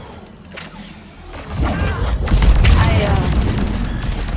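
Pistol fire in the Mass Effect 3 multiplayer game, a loud dense burst of booming shots and impacts building from the middle onward over game noise, with a voice speaking briefly at the start.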